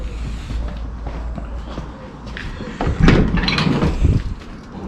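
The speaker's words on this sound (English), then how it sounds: "we do love a Clubman door. that sound." A classic Mini Clubman car door creaks open and then shuts with a solid thunk nearby, over a low background rumble.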